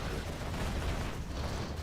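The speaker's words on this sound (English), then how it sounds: "Whoa, that big explosion." A big explosion in a real-time strategy game gives a dense, roaring broadband blast that fills the short moment, loud and sustained with no pause.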